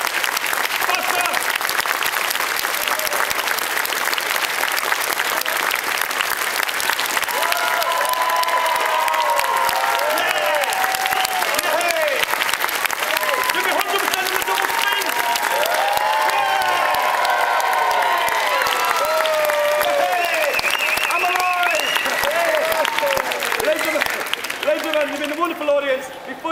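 An audience at a sword juggler's tightrope performance claps continuously and loudly throughout, with a performer's voice urging them on over the dense clapping.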